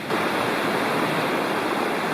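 A roaring creek below a backpacking campsite in Cherokee National Forest pours out a loud, steady wash of rushing water, unbroken and close.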